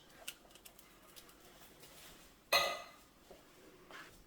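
A spoon clanks against a pot of simmering fire-roasted tomatoes, one sharp metallic scrape and clatter in the middle with a few faint taps around it, close and alone.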